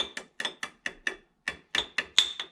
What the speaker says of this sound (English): maybe we'll just hit it with a little hammer